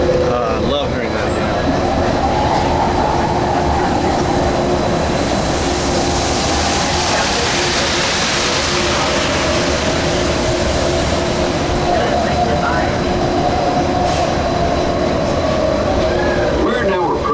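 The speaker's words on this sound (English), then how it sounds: "We're now approaching the Tomorrowland Monorail Station, our final destination." Disneyland monorail train gliding along its track, a loud steady rumble and whine with rising and falling hum, close and continuous, with faint voices in the background.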